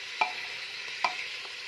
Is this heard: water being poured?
no